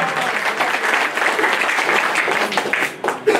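An audience claps loudly at an anniversary ceremony and state-level award distribution, a continuous dense burst of applause from a crowd that rises again near the end.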